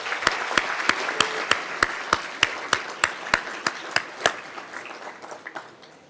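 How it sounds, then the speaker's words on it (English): A round of applause fills an awards banquet hall, sparse and distinct at first with sharp individual claps standing out on a steady beat, thinning out toward the end. "let's acknowledge their accomplishments with a round of applause"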